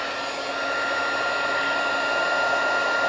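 A heat tool blows steadily to melt embossing powder on a handmade thank-you card, giving a constant loud whirring rush of air with no talk and no pauses.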